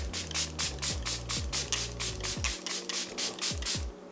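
A Charlotte Tilbury setting spray is pumped in a rapid series of short, close hissing bursts, loud and rhythmic, over a low electrical hum, with no voices.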